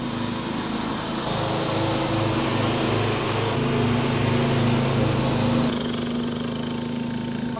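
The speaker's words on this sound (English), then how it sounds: "You're gonna be able to hear the guy mowing my lawn during my intro." Outside, a lawn mower cutting a lawn runs continuously, a steady droning engine whose pitch shifts slightly partway through, fairly loud and with no talking.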